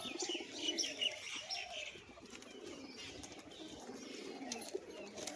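A crested pigeon coos during its courtship display, soft repeated throaty coos with a few chirps from nearby birds, fairly faint and steady without speech.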